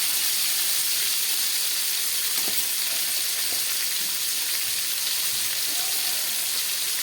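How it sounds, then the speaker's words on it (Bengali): Pointed gourd fries gently in a pan over low heat, a continuous, even hiss and sizzle with a few faint clicks of a utensil and no talking. "গ্যাস কমিয়ে খুব হালকা হাতে পটলগুলোকে এইভাবে ভেজে নিতে হবে।"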